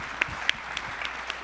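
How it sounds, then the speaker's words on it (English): Scattered light applause from a conference audience, a thin steady patter of claps with a few sharper single claps, fairly quiet and brief. "Please give a warm round of applause to our wonderful experts."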